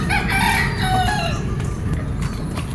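A yellow-legged gamefowl rooster crows once, loud and close, its drawn-out call rising and falling over a steady background of other fowl and farm noise.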